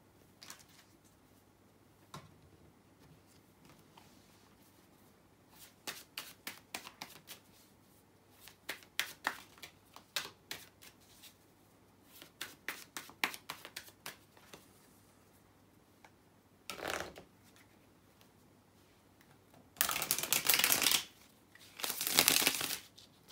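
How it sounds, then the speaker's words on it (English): Tarot cards being shuffled by hand, with bursts of riffling and slapping that grow louder and denser toward the end, close and clear with no talk. "Now let me shuffle the cards and see what your career has in store for you."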